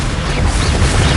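Descendo spell cast in a Hogwarts wizarding video game, a dense, loud crashing burst with a low boom that rumbles steadily through the whole short moment, no voices over it.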